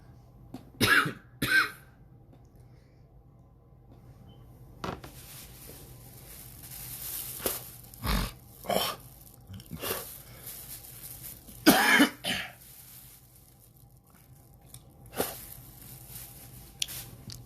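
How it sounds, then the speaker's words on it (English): A person with an itchy cough coughs in several separate fits, with dry hacking bursts and some throat clearing, close by with quiet gaps between them. "I got an itchy cough that tried to keep taking me out"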